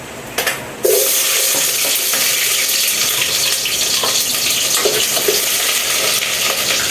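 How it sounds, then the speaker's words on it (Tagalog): Onions hit hot cooking oil with a loud, close, steady sizzle, preceded by a brief clatter and broken by occasional stirring scrapes, with no speech. "Nalagay ko na yung sibuyas."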